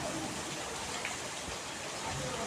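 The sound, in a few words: heavy rain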